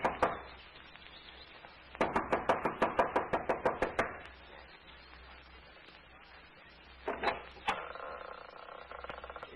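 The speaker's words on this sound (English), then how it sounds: "She knocks impatiently" Knuckles rap impatiently on the front door of a lodge: a quick single tap, then a long fast burst of about a dozen loud knocks, a pause, and a shorter cluster later, in a quiet radio-drama setting.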